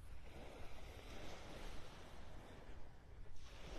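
Ocean surf rolling in at Delnor-Wiggins beach in North Naples on a rising tide, a steady, soft wash of waves with some wind rumble, heard from the shore with no talking.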